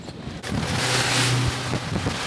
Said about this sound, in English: We got some windage for sure.